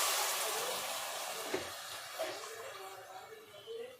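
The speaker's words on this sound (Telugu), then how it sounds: "దీనికి గ్లాసున్నర వాటర్ పోయాలండి." Water pours into a pot holding basmati rice as a broad, soft rushing splash that slowly thins out. A few faint knocks and gurgles follow near the end.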